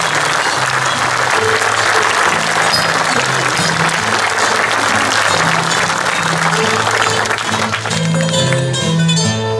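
An audience applauds a performer imitating the singing of old cantadores from Terceira, with loud sustained clapping throughout and a steady melodic musical line underneath.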